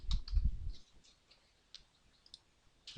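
Mouse clicks during Photoshop work, sharp light clicks scattered across a quiet room, with a soft low thump near the start and a few faint single taps after it.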